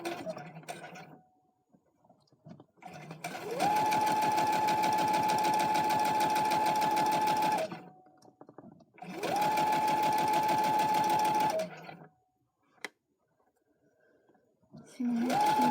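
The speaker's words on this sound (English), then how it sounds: "I'm going to sew." Electric sewing machine stitching scraps of fabric together, running in two long steady bursts of rapid needle chatter with quiet pauses between, close by, plus a short start at the end.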